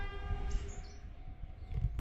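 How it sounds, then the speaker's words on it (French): A train horn sounds on a Tokyo railway, steady sustained tones held over low rumbling rail noise for a couple of seconds, moderately loud with no voices. "Pourquoi il klaxonne comme ça?"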